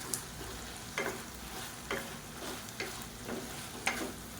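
Coriander leaves are stirred into sautéed brinjal and tomato in a pan, a soft sizzle under a few distinct spoon scrapes spaced about a second apart, fairly quiet and close.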